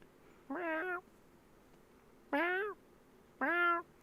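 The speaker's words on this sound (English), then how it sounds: "Simon's cat meows to get Simon's attention." Three clear meows from the cartoon cat in Simon's Cat, each about half a second long with a rising then falling pitch, spaced out over a quiet background with no talking.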